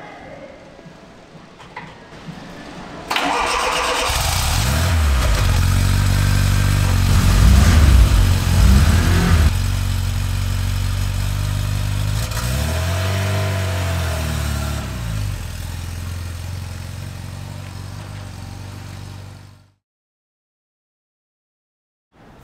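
A Fiat X1/9 sports car engine starts and settles into a loud, close idle, revs and rumbles as the car drives off, then cuts out into silence.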